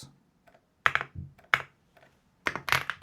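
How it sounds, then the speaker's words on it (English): Bursts of rapid keystrokes on a computer keyboard during a programming session, clicking in short clusters separated by brief pauses, fairly close and alone with no talk. "what was that typing?"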